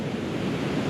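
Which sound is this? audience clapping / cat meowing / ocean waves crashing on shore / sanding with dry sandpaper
ocean waves crashing on shore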